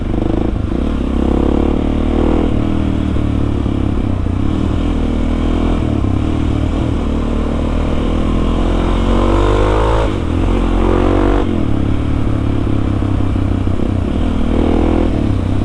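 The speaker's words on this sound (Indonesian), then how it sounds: "Ini motor kesayangan ini." Suzuki DRZ 400 supermoto motorcycle ridden around Bandung, with a loud, steady single-cylinder engine drone and shifting revs close up throughout, plus some clatter and wind.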